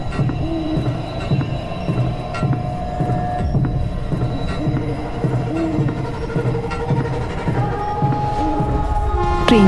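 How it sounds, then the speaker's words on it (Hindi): A cartoon train pulls away in a haunted-station horror cartoon, with a steady rumbling drone, rhythmic clacking and faint wheel squeals that build slightly toward the end, heard alone with no voices. "ट्रेन चल पड़ती है।"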